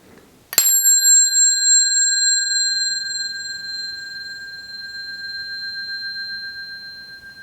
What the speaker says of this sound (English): It goes to a lower note as it moves away, a higher note as it moves closer.